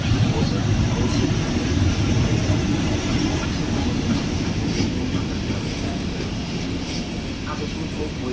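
A Skoda 131 electric locomotive hauls a freight train loaded with steel through Zilina, Slovakia, giving a continuous loud rumble of rolling wagons with faint clatter and wheel squeal throughout.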